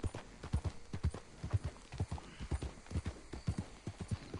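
Horse hooves clip-clop in a steady quick rhythm in the Red Dead Redemption 2 video game, a quiet string of sharp thuds repeating for several seconds with no talking.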